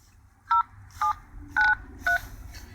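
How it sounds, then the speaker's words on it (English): Four evenly spaced DTMF keypad tones sound as a number is dialed out on an Android phone's dial pad, each short beep clear and distinct over a low background hum. "it actually seems to dial out."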